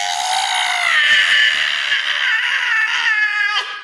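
A human voice imitates the scream of a devil frog with a long, wavering, high-pitched wail that holds for several seconds before breaking off, loud and close.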